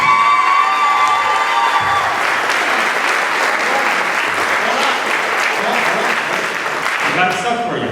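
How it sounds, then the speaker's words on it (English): An audience bursts into sustained applause with cheering and whoops, a dense continuous clapping wash that holds steady before easing slightly near the end. "We were listening to the applause."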